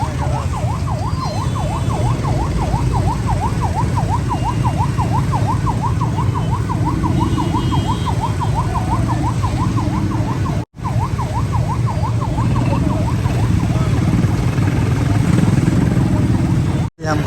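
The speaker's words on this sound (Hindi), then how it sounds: "ये देखें एम्बुलेंस रुके हुए हैं, कोई रास्ता ही नहीं दे रहा है" An ambulance siren wails in a steady rising-and-falling pattern while stuck in congested road traffic, loud and continuous over engine rumble, with brief dropouts.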